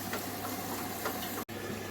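Water rushes steadily into an Indesit 1400 washing machine (WMS E14) running with its top and back covers off, a continuous close hiss with a brief dropout near the end.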